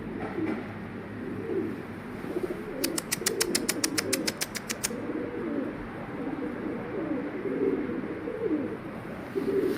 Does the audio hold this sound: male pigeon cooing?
yes